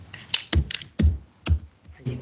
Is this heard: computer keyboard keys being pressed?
yes